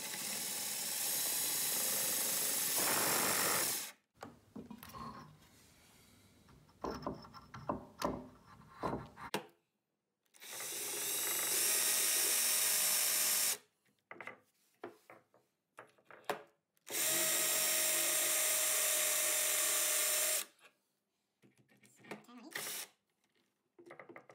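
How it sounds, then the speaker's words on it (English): A power drill whines in three long, loud bursts while drilling a hole into bathroom tile, separated by quieter stretches of clatter and handling noise. "drill the bigger hole into the tile so that the screw will fit in"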